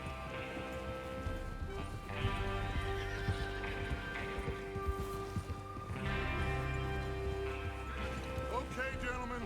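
Horses gallop with drumming hoofbeats and let out whinnies and neighs in Red Dead Redemption 2, mixed with game music and a voice speaking underneath.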